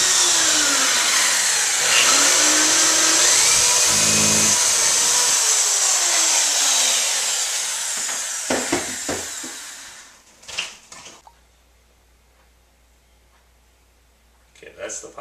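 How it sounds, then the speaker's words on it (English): Power drill with a simple bit boring a pilot hole into a box on clapboard siding, a loud steady whining drone for about eight seconds that winds down and stops, followed by a few faint clicks. "First step is my pilot hole, just a simple drill bit,"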